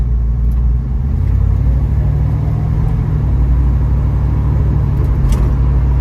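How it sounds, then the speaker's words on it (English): A 1972 Ford Mustang Mach 1 accelerates at half throttle on a summer drive, its engine a loud, steady low rumble that climbs slightly in pitch, heard up close with no talking. "And I'm going no more than half throttle, and this thing really goes."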